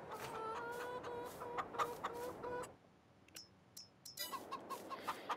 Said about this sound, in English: In here we have the chickens, all these lovely girls, they're producing eggs.